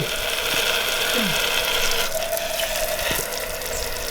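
Toy water-pressure rocket spraying water in a steady broadband hiss with faint mechanical clicks, fairly close and continuous for a few seconds, no talking.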